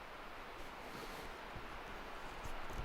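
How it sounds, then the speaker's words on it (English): A waterfall at Devils Den State Park rushes steadily in the distance, a constant broad hiss of flowing water heard alone in the open air outdoors. "And you can hear the waterfall thing going over there."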